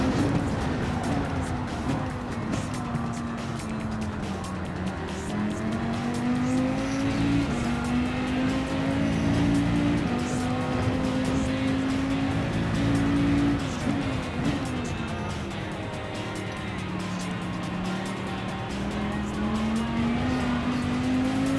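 Race cars, including a Lamborghini and a Viper, lap Daytona in a racing video game, a loud steady engine drone rising and falling with gear changes and occasional tire squeal, continuous throughout.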